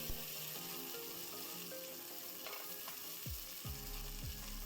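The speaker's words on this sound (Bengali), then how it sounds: "আর হচ্ছে শুকনো লঙ্কা দিয়ে দিলাম। এবার এটাকে একটু নাড়িয়ে নিচ্ছি।" Dried red chillies fry in hot oil while a spoon stirs them through a pan, making a soft steady sizzle with a few scraping clicks and knocks near the end.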